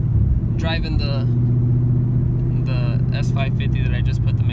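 A Ford Mustang S550 with a new McLeod clutch cruising on the road, its engine and road noise a steady low drone throughout while a person talks over it at intervals.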